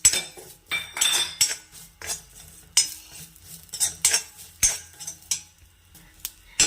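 Curry leaves and a green chili stirred in a frying pan, a spoon scraping and clinking against the metal in repeated bursts over a faint sizzle, close by with no talk.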